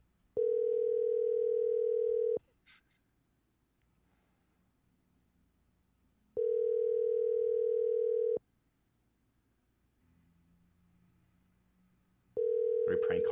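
A telephone line's steady electronic tone repeats in three loud, even bursts about two seconds long, with roughly four seconds of near-silence between them, heard on a call being placed as a prank.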